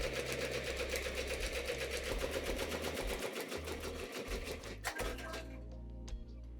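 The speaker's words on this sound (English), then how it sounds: "Now that that's on, we'll press start. So like I said, it's gonna lay down a base layer stitch first." An embroidery machine lays a base-layer stitch down over foam with a fast, steady mechanical rattle and hum, close and continuous. It slows and fades into lighter clicking toward the end.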